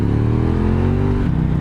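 Motorcycle engines drone steadily at close range, a loud continuous rumble with a slight shift in pitch near the end.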